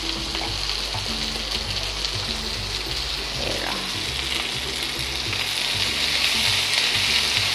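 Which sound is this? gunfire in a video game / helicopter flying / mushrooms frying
mushrooms frying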